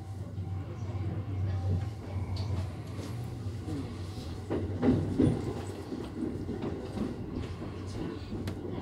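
A Joban Line E531 series electric train rumbles steadily along the rails, heard from inside the carriage, with a low droning hum and faint rhythmic clatter, a brief louder swell midway.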